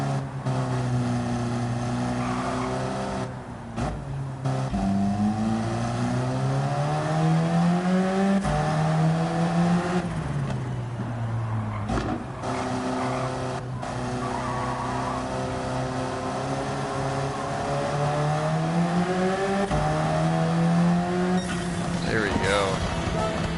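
A race car in Gran Turismo 7 revs through its gears, engine pitch climbing and dropping between shifts across a lap, with someone talking over the steady in-game engine drone.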